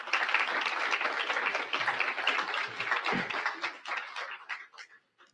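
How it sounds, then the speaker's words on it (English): Audience applause at a public event on homelessness in Sacramento, dense crowd clapping that holds steady for several seconds and then thins out and fades to a few scattered claps. "It says here, applause line"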